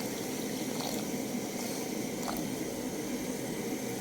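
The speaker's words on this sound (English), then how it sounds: "now I'm going to add water, around a cup of water, to make some soup" Water poured into a pot while making omena sardine soup, a steady rushing, bubbling liquid sound that stays even and moderately close for a few seconds with no talking.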